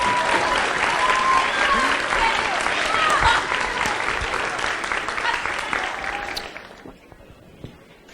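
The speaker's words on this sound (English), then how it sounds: "Let's have another round of applause for our orchestra." An audience at a 5th and 6th grade spring instrumental concert applauds the school orchestra, a dense burst of clapping with voices mixed in that gradually fades to scattered claps near the end.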